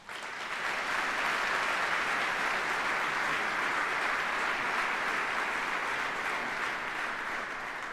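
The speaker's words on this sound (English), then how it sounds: "Please give them a round of applause" A large crowd at a military rally applauds senior NCOs, steady dense clapping that swells in quickly and holds loud and even for the whole stretch.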